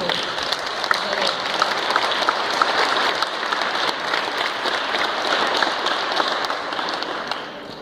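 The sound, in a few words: audience applause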